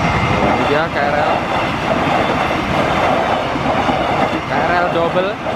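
An Indonesian KRL electric commuter train, a double set seen from trackside in late afternoon, roars past close and loud with continuous wheel clatter and a brief squeal.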